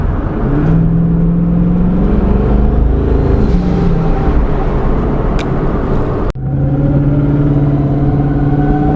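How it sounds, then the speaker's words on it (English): Twin-turbo S550 Mustang with a freshly rebuilt engine, its turbos whistling loudly over a steady, droning engine note that holds constant, dips sharply for a moment, then resumes with rising whine; no talking. "It's crazy, it's crazy how loud those turbos are."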